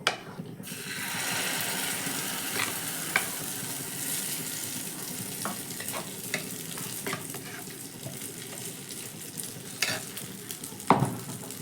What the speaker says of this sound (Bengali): 1 চামচ তেল দিয়ে দেওয়ার পর কিছুটা পরিমাণ ব্যাটার এর মধ্যে দিয়ে দেব।